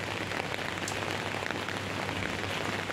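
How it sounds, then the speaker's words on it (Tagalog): Steady rain falls across a rooftop vegetable garden, a dense, even patter of drops hitting leaves and surfaces that holds constant throughout, with no voices. "Umuulan. Ayan, oh, nag-uulan-ulan."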